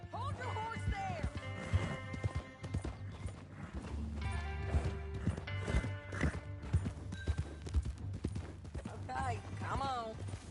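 Horse hooves clip-clop steadily in Red Dead Redemption 2, moving at a walking pace beneath a continuous music bed, with a voice speaking over them.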